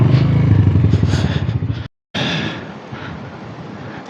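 A motorcycle rides an extreme offroad mountain trail toward Karambar Lake in Pakistan, its engine chugging close by with clatter, then cutting out briefly before a rougher, fainter rumble resumes.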